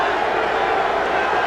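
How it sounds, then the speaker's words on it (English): A basketball arena crowd at a FIBA World Championship game between the USA and Puerto Rico, a loud, dense, unbroken roar of jeering voices filling the whole moment. "I don't know what the crowd's so upset about."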